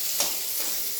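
Fish frying in a kadai in a home kitchen, giving a steady, close sizzle with soft crackling and one brief brighter spatter near the start.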